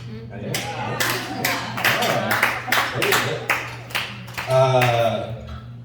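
A handful of people clap in sharp, uneven bursts over a steady low hum, with a voice rising briefly near the end.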